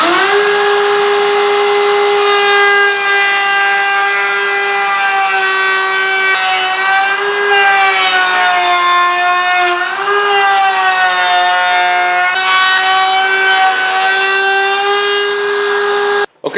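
Power tool routing a 1/4 to 3/8 inch rabbet into a wooden picture frame piece, a loud steady whining drone with strong harmonics held for about sixteen seconds, pitch dipping slightly as the wood feeds through, then stopping abruptly.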